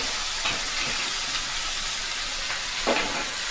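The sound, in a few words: ash gourd and lentil dumplings (bori) sizzling in the pan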